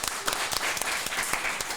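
Audience applause fills a Papuan podcast studio, a steady dense burst of clapping heard up close with no talk over it.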